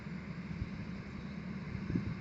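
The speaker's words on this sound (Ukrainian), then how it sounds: "Трактор в нас кубота" A Kubota tractor runs in an orchard during spring spraying. A steady, fairly faint low engine drone continues throughout, with some wind noise.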